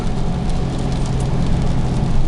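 Steady rain patters continuously in the Carpathian highlands, a dense even hiss of drops close by with a low rumble underneath.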